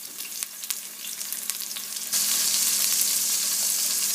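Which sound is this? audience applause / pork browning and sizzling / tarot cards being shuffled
pork browning and sizzling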